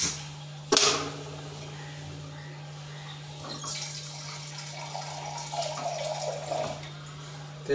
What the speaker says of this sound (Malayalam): ആവശ്യത്തിന് വെള്ളം കൊടുക്കുക.